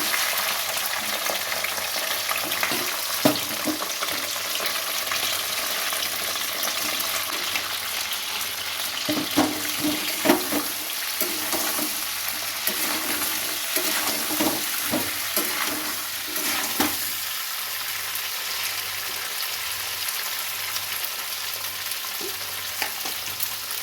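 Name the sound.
crabs frying in hot oil in a wok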